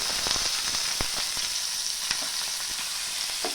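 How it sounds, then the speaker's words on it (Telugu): Mustard seeds and chopped onions fry in a pan with a bright continuous sizzle and sharp little pops and crackles throughout, close and steady, no one talking. "కొద్దిగా ఆవాలు వీటన్నిటిని దోరగా వేయించుకోవాలి మనం కట్ చేసి పెట్టుకున్న ఆనియన్స్"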